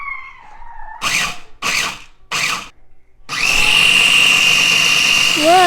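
A kitchen appliance whirs loudly while chopping oats for peanut butter bites, starting with three short pulsed bursts and then running in one steady, continuous grind close by.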